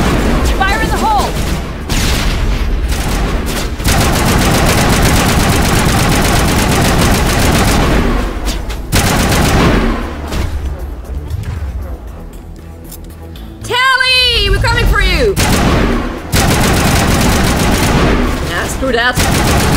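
Loud sustained gunfire rattles through a Mass Effect firefight in long dense bursts broken by short lulls, with voices talking over the shooting.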